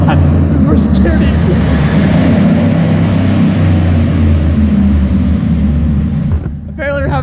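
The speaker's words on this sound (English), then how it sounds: "Apparently we're having a rev war in the damn parking garage now." Heavy trucks rev their engines inside a parking garage, a loud, continuous low roar echoing in the enclosed space, with a voice near the end.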